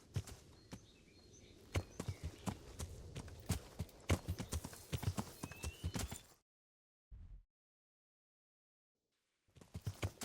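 Horse hooves clip-clopping in the medieval game Kingdom Come: Deliverance, a brisk irregular run of hoof strikes that stops abruptly, then a lone thud after a short silence before the hoofbeats resume.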